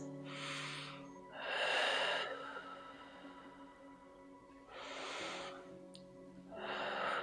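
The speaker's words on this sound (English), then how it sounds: "We're going to do 5 breaths." Slow, deep breaths during a lower-body mobility stretch: long, airy inhales and exhales in a relaxed rhythm, close and fairly soft, with no talking.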